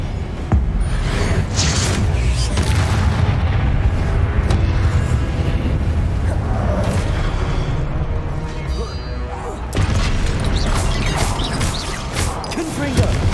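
Confringo explosion spell in the video game Hogwarts Legacy, with dense booming blasts and crashing impacts piling up continuously under a loud, busy game mix and a speaking voice.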